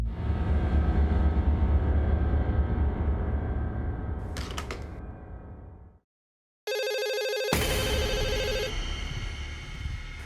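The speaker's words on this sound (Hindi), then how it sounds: "मुझे फोन आ रहा है।" A telephone rings loudly in a repeating electronic bell pattern, falls silent for a brief moment, then rings again with a brighter, higher tone, and no one speaks.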